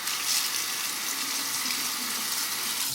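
Tap water runs steadily over a double-edge shaving razor, an Edwin Jagger DE89LBL, rinsing it at a sink with a continuous close splashing rush and no pauses.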